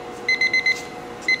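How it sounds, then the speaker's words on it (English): A lab timer's beeper sounds during an asphalt mix design test, a quick run of four short, bright electronic beeps followed by one more after a pause, loud over a quiet room. "There we go, there's the beeper going."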